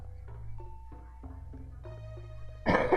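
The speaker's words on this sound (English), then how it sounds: "it picks up me coughing perfectly, which is annoying" A single sharp cough from a person bursts out near the end, following a stretch of steady electronic game music with sustained tones.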